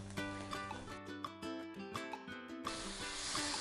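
Minced onions, minced garlic and diced chicken sizzle in a pan, the frying hiss swelling into a steady close wash in the final second beneath tuneful background music.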